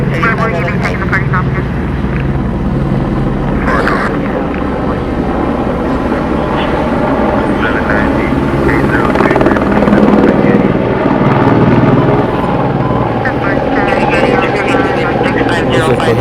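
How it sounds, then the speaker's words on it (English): A helicopter hovers over a Los Angeles area at night, its steady rotor drone loud and continuous throughout while people talk nearby. "Looks like the helicopter's kind of staying in one place over there."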